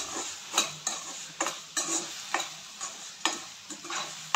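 A utensil stirs ladies finger curry with rock salt, chili powder and coriander powder in a pan, producing a rhythmic series of quick scraping clicks about twice a second over a faint sizzle.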